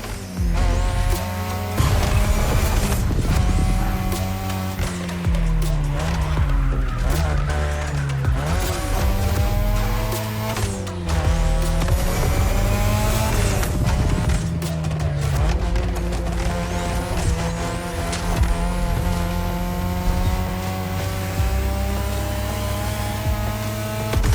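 Street racing cars in The Crew Motorfest, set in Hawaii, roar continuously with loud, rising and falling engine tones, gear shifts and tire squeal throughout, with no talking.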